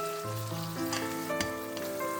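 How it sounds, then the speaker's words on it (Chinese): Scallion leaves fry gently in oil over low heat while chopsticks keep turning them, giving a soft, steady sizzle close by with faint crackles. "然后我们加入40克葱叶，继续保持小火，筷子不停地给葱翻面"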